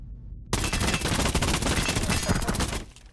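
Rapid automatic gunfire in a video game rattles continuously for nearly two and a half seconds after a quiet start, loud and close, then cuts off abruptly.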